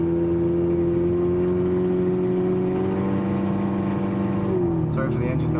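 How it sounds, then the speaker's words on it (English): A homestead tractor engine in need of muffler work drones loud and steady throughout, a low harmonic hum that dips in pitch near the end as a light clatter joins in. "Sorry for the engine noise."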